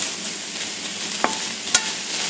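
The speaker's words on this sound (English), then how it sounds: "We're going to saute these mushrooms until done." Mushrooms sautéing in butter in a pan give a steady, even sizzle up close, broken by two brief clicks of a utensil, with no talking.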